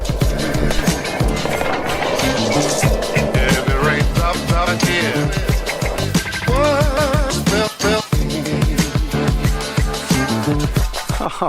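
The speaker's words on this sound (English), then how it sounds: "Actually, skating along it's even better." Skateboard wheels roll steadily along a canal path in Bangkok, a loud, continuous rumble with scattered clacks and bumps from the pavement throughout.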